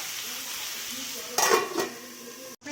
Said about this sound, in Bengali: আমি 2 মিনিট অন্তর অন্তর এটাকে নাড়বো